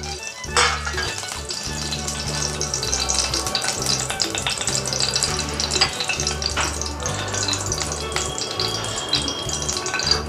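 A bay leaf sizzling in a mix of hot oil and ghee for tricolor fried rice: a steady, close crackling fry with occasional stirring clatter from the pan.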